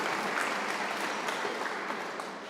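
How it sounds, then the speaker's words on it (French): Sustained audience applause at the inauguration of Henri Fabre's Canard seaplane at an aeronautics museum, a steady dense crowd clapping that stays loud throughout and eases slightly at the end. "Sous vos applaudissements."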